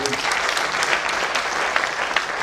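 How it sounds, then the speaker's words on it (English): A crowd at the Ruiru Sports Club centenary celebration applauds an arriving guest. The clapping is loud, dense and continuous, with sharp individual claps standing out against the steady wash. "Please clap for him."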